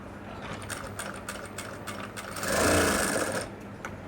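Sewing machine stitching a folded seam on a garment, a steady mechanical run of close rapid stitches that swells louder for about a second near the end.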